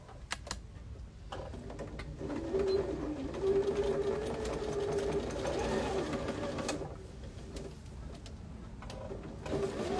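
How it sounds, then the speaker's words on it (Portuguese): A sewing machine stitches the short side seam of a fabric Santa hat in steady rapid bursts, its mechanical whirring rising and pausing between runs, close and clear. "Eu vou vir e costurar só a lateral menor aqui"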